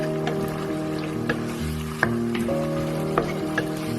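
Mince and sauce sizzling steadily in a pan with added vinegar and sugar, stirred in a few scraping strokes, close and continuous with no talk.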